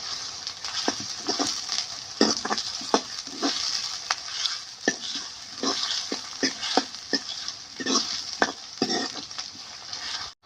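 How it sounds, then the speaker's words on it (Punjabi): Chopped onions and green chillies fry in a pan for vegetable masala Maggi, a steady close sizzle broken by frequent sharp scrapes and taps of a stirring spoon, with no voices. "ਪਿਆਜ਼ਾਂ ਨੂੰ ਚੰਗੀ ਤਰ੍ਹਾਂ ਭੁੰਨ ਲੈਣੇ ਆ"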